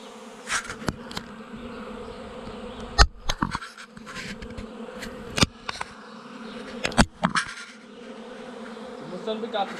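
A honeybee swarm, an afterswarm taken from a tree in May, hums steadily up close, with sharp clicks and knocks cutting through at intervals.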